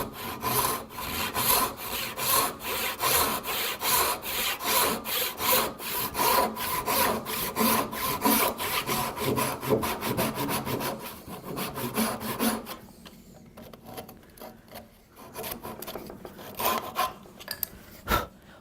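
A hand saw cuts wood for a tenon, with rapid, rhythmic rasping back-and-forth strokes, close and steady, slowing and thinning out toward the end as the cut finishes.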